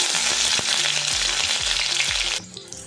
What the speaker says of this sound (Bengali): এবারে এর মধ্যে দিয়ে দেবো 2 চামচ পরিমাণে পেঁয়াজ বাটা